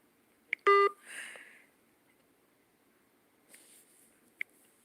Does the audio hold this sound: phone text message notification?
yes